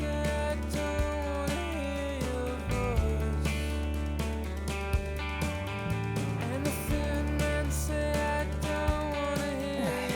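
A full rock band plays a song, with steady, loud drum hits and cymbal crashes driving beneath dense guitars and sustained tones.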